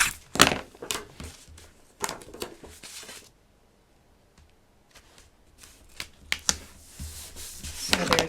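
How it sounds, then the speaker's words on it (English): A snail tape runner lays adhesive on cut paper for a stationery folio: quick rasping, crinkly bursts in short clusters, close up, with quiet gaps between strokes. "I am just going to place mine down using my snail tape runner."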